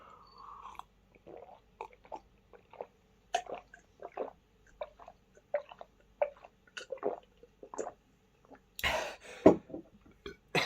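Water sipped from a teacup in a quiet room: a series of short, close slurps and swallows spaced irregularly, ending in a louder gulp and a faint exhale.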